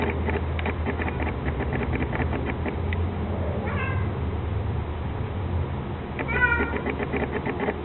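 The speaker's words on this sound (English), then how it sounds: "Cat wants in on it." A cat meows twice in a workshop where 3-strand rope is being spliced, once briefly midway and again near the end, over a steady low background hum.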